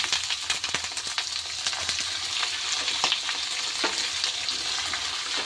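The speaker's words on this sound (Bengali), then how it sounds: "ততক্ষণ এটা ভাজা হোক।" Chicken skin fries in a pan with a steady, dense sizzle and crackle that goes on without a break. A few faint pops and scrapes stand out, and no one speaks.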